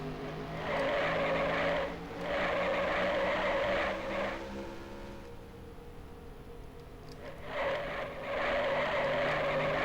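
Race car tires squealing in the NASCAR Racing 1996 video game at North Wilkesboro, a loud sustained screech in two long stretches with a quieter engine drone between them, no voices.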